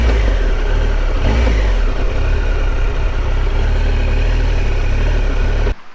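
A motorcycle engine rumbles loudly up close, revving and idling with heavy low-end throb before cutting off.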